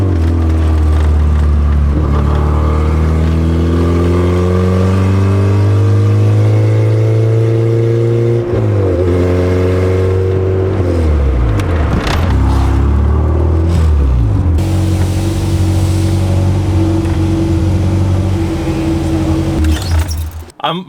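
Fully built LS VTEC engine in a Honda Civic EG hatch, droning loudly as it climbs and falls through revs while driving, with a brief drop near the end; speech is also present.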